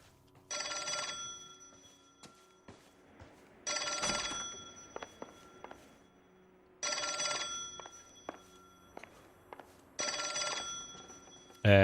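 A telephone bell rings in Kelso's apartment in the video game L.A. Noire, loud and near. There are four long bursts of ringing with quiet gaps between them, and small clicks and footsteps fall in the pauses.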